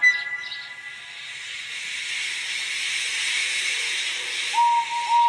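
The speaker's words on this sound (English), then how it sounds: "When Henry had got up steam, he puffed out." Continuous loud steam hiss from a locomotive, steady throughout, with a brief whistle-like tone near the end.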